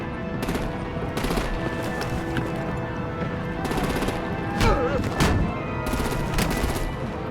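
Artillery and machine-gun fire in Batman: The Enemy Within crack out in repeated loud bursts, with sustained rattling volleys spaced across the scene over a rumbling background.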